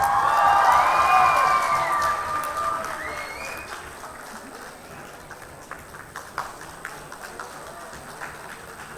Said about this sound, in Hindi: अगर पंजाब में आज इतनी रौनक आई है तो वो शोर लगातार होना चाहिए तालियों का